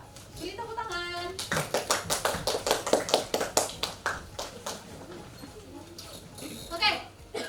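Applause in a classroom: a short burst of children's hand clapping, distinct and fairly close, fading out after a few seconds, with a bit of children's speech and a teacher's voice around it.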